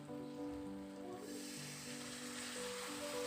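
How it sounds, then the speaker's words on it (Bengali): Chicken masala frying in a pan with a small splash of water, giving a steady, fairly loud sizzle and hiss that continues throughout, with faint background tones underneath. "এবার আমি একটু অল্প করে জল দিয়ে দিচ্ছি"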